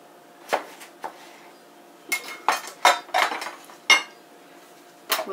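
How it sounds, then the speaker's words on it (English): A knife slices a cucumber in half on a hard surface, producing a series of sharp clicking, clinking chops spaced irregularly, close and fairly crisp, without talking. "the cucumber is a little bit large for the hole, so I'm going to slice it in half"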